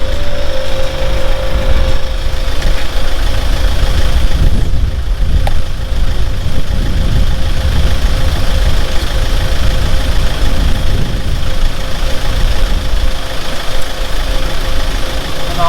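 A Viair 485C dual air compressor paired with a 2.5 gallon air tank runs while airing up tyres, giving a loud, steady, close mechanical drone that continues without a break.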